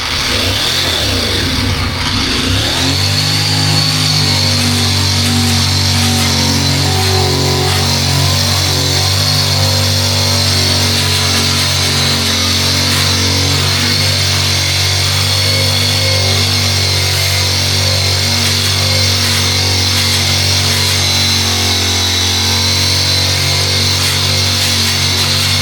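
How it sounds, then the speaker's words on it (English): A power tool grinds steadily and loudly at close range on plumbing that needs cutting down, a continuous droning whine running almost the whole length without pause. "We got to grind this down a bunch. Alright, so we'll start grinding."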